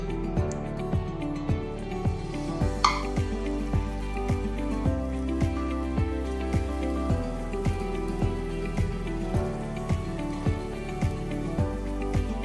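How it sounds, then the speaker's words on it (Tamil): Panangai paniyaram batter fries in a pan of hot oil, giving a steady soft sizzle and bubbling crackle with small regular pops, close and continuous without talk. "எல்லாம் பொரிஞ்சு கொண்டிருக்கு"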